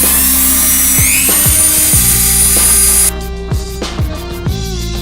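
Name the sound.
Dremel rotary tool grinding metal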